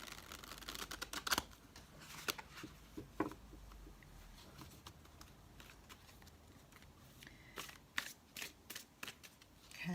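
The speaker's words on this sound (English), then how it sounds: "Let's give it another shuffle and see." Quiet, close card shuffling with bursts of crisp riffling and flicking snaps, pausing briefly between flurries.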